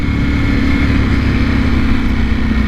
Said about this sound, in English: Still no exhaust on the Ducati V4R, but like I mentioned on the previous video, it sounds amazing